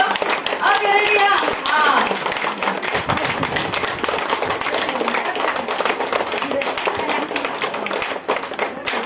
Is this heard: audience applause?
yes